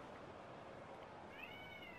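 A cat meows faintly in the background, a brief rising-and-falling call near the end over a steady hiss of room noise, distant and quiet.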